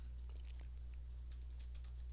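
Light, irregular clicking of fingers typing on a computer keyboard, close and quiet, over a steady low hum.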